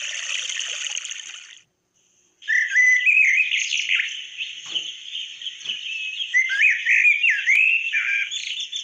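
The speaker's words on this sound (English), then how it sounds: "That's another sound that came with it, the birds." Birdsong plays back through the small built-in speaker of a digital voice recorder and MP3 player: bright, continuous chirps and warbles that follow a brief silence after a rushing, watery tail.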